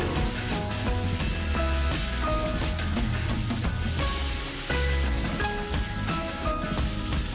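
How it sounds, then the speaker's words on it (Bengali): Prawns coated in salt and turmeric sizzle in hot oil, a dense, continuous crackling hiss that stays loud and close throughout, with music playing over it and no talking. "তেলটা ভালোভাবে গরম হতে দিতে হবে। এর মধ্যে নুন হলুদ মাখানো চিংড়ি মাছগুলো দিয়ে দেব।"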